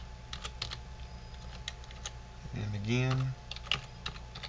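Computer keyboard typing while setting up a tethered connection on a Windows PC, with scattered keystrokes throughout and someone briefly speaking partway through.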